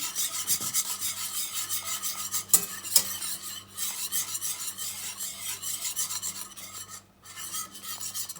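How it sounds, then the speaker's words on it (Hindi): A spoon stirs peeled cardamom pods through melted butter heating in a pan on a high flame, making a steady close scraping and rubbing over a soft bubbling sizzle, with no voices. "इसी तरह से इसको मिक्स करेंगे 1 मिनट के लिए"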